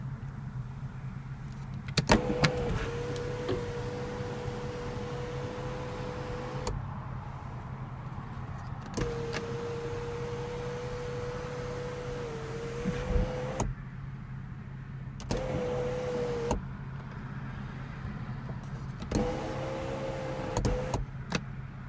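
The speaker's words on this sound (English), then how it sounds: "sunroof with one touch open," Sunroof motor on a BMW 435i coupe running in several separate bursts, each a steady whining hum lasting a few seconds with brief pauses between, over a low cabin background.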